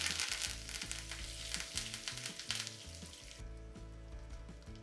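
Curry leaves and dried red chilies sizzle in hot oil with the gas flame off, giving a dense, crackling fry close up under a low hum. The sizzle softens after a few seconds.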